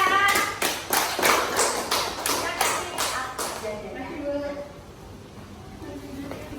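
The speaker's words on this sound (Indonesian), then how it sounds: "Tepuk tangan dulu ya." Classroom students clapping hands together in a burst of roughly a dozen sharp, fairly loud claps that fade out after about four seconds, leaving quiet room murmur.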